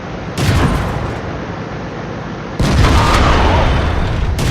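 A tank's ammo rack blows up in World of Tanks, heard as a heavy booming blast that rumbles on. A second loud burst follows partway through, with no voices over it.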